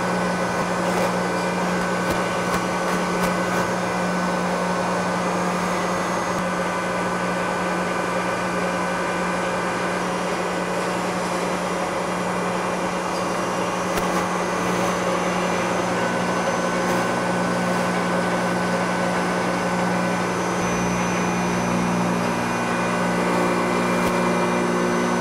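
A Supermax YCM-40 CNC mill with a Centroid DC control cuts an aluminum test part, giving a steady, unbroken whine and hum with tonal cutting overtones and faint clicks, running alone throughout.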